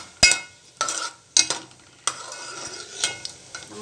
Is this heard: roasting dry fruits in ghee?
yes